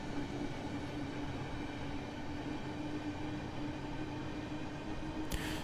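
A KTX-Eum high-speed train runs past in Train Sim World 4, giving a steady, loud rumble of wheels and rail with a faint tonal whine, close and unbroken until a brief hiss near the end.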